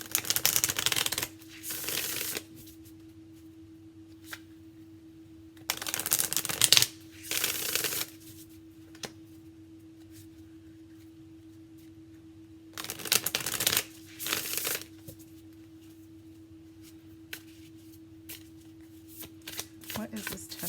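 An oracle card deck is shuffled by hand in bursts: several brisk riffling and shuffling runs, each a second or two long, separated by quiet pauses over a faint steady hum.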